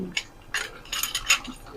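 A spoon scrapes and clinks against a cooking pot of ginataang kalabasa in a handful of quick, light strokes, close and fairly quiet.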